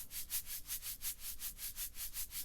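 A shaker played softly for a breathy shh tone makes a faint, close, rhythmic swishing of regular strokes, about four per second, with no voices.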